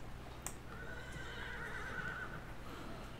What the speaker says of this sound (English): here we are at the stables, and we have a dragon horse